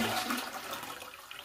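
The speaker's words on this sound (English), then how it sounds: "So, will it flush again?" A toilet flushing through its siphon mechanism during a DIY plumbing repair, a close rush of water that surges loudly at first and then gradually eases off.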